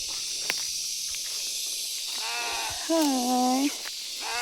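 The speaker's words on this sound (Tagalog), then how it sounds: "Andito ata yung kambing." A goat gives a single clear, fairly loud bleat on a farm field being readied for corn planting after heavy rain, with fainter wavering calls just before it over a steady outdoor background.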